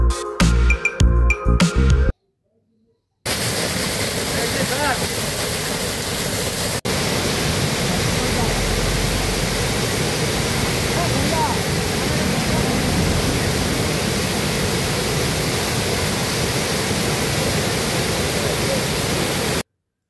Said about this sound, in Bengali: অসাধারণ ঝর্ণা দেখে আমরা আবার সামনের দিকে এগোলাম